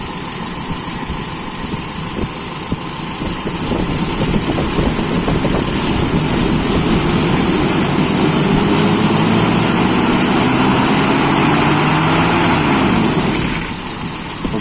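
A motorcycle engine with a carburetor running a lean idle mixture and worn, loose bolts throbs near and loud, swelling as the throttle is blipped and held for several seconds before it settles back toward idle.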